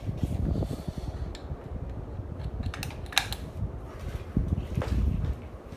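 A Hampton Bay Vineyard 52-inch ceiling fan runs on high with a steady, low, airy rumble, punctuated by scattered light clicks and ticks, heard from close by at moderate level.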